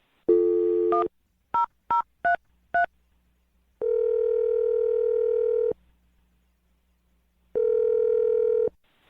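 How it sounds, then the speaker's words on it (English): A landline telephone gives a steady dial tone, then a quick run of touch-tone keypad beeps as a number is dialed, followed by two long ringback tones separated by silence. "I'm going to dial the phone number"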